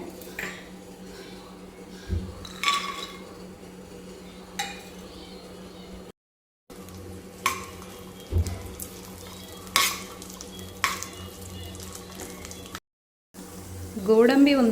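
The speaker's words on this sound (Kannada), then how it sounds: "ಸ್ವಲ್ಪ ಕೆಂಪು ಬಣ್ಣ ಬಂದ ಮೇಲೆ ನಾನು ಸ್ವಲ್ಪ ದ್ರಾಕ್ಷಿ ಹಾಕ್ತೀನಿ ಇದರಲ್ಲೇ ಫ್ರೈ ಮಾಡ್ಕೊಳ್ಳೋಕ್ಕೆ" Dry fruits and raisins frying in ghee in a pan while preparing chow chow bath, soft sizzling with intermittent stirring clinks and utensil knocks close by, continuous apart from two brief gaps.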